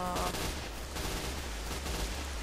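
Sustained, dense gunfire from S.T.A.L.K.E.R., a rapid volley of shots filling the whole stretch at steady loudness, with a sharp burst near the start and no talking.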